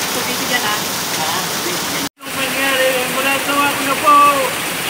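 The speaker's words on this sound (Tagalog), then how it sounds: "naliligo po sa banal na tubig" Holy water at Santa Lucia on Mount Banahaw pours onto a bather in a continuous rushing splash that breaks off briefly midway, while voices talk faintly over it.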